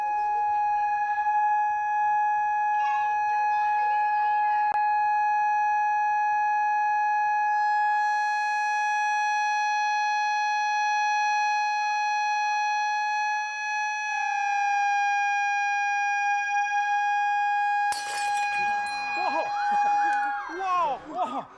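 A steady electronic tone holds and wavers in pitch for a long stretch, with faint voices in the background and a sharp crash near the end.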